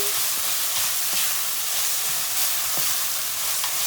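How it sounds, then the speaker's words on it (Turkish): Tomato paste sautéed in a hot oiled pan, giving a steady dense sizzle and crackle with occasional soft stirring scrapes, close up and continuous with no talking. "Salçayı iyice bir kavuracağız."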